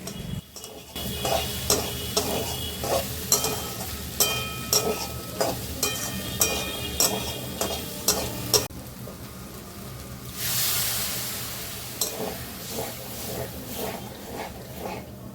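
Vegetables with a little sugar are stirred in a pan, heard as a steady series of regular utensil scrapes and taps over a soft sizzle. Near the end a brief hiss rises as water goes in.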